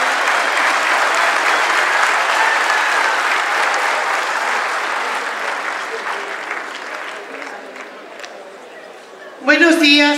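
An audience at the Morena party's extraordinary national congress applauds the party's secretary general with a sustained, dense wash of clapping that slowly thins. A single voice then cuts in loudly near the end.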